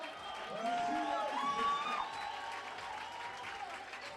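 Spectators in the stands cheer and applaud at an athletics age-group track championship, a steady crowd roar with whoops rising and falling, while a commentator's voice talks over the noise.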